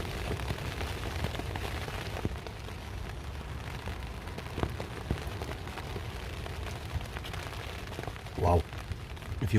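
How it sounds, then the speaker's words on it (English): Steady rain patters on a small tent pitched for a solo wild camp in a graveyard, with gusting wind beneath it, heavier drops striking in places and a brief louder burst of wind near the end. "you can hear the wind and you can hear the rain"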